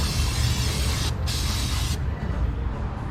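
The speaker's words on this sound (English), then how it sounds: "I need to brake clean that nastiness out of there" Brake cleaner sprayed in long, steady hissing bursts to wash oil off a car engine in a parking lot, close and loud, with a brief pause in the middle and no talking.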